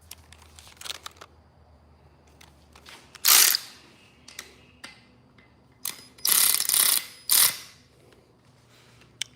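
Ratchet wrench snugging bolts on a small-block Chevy engine mounted on a run stand, heard as several bursts of quick metallic clicking separated by quiet pauses, close and fairly loud.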